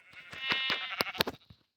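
A sheep in Minecraft bleats in a short, wavering burst of several quick pulses, close and clear, trailing off to silence with no talk.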